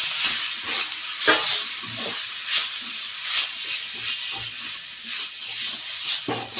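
Onion, ginger garlic paste, chili powder and garam masala sauté in a pan for pepper chicken, giving a steady, close sizzle with repeated scraping stirs and no talk.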